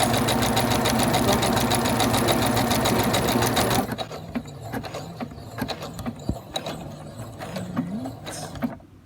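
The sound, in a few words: sewing machine stitching a buttonhole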